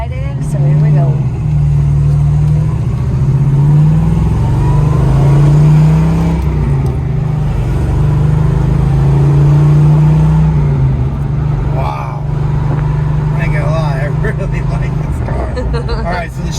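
A 1979 Chevrolet Camaro Z28 accelerating hard, loud engine roar climbing through revs with gear changes, close up, with a voice talking over it.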